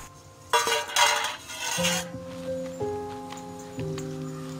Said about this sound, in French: Alors moi je broie toujours les glands avec ma pierre